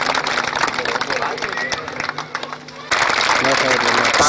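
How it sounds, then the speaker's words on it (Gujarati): Applause and clapping from an audience at a Gujarati community gathering, dense and continuous with crowd babble mixed in, swelling louder near the end. "જોરદાર તાળીઓથી વધાવો."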